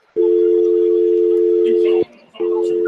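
A steady telephone dial tone hums loud and close for about two seconds, cuts off, then starts again after a short gap, once a call has dropped.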